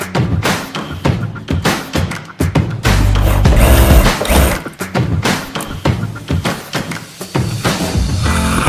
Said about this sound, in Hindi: सबसे पहले हम चारों साइडें ले लेंगे और वो सिलेंगे आपस में एक दूसरे से।